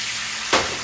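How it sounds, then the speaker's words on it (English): Water poured into a hot frying pan with three seasoned eggs bursts into a sudden loud sizzle midway, spitting briefly and then easing into a softer hiss. "pour a little bit of water around there"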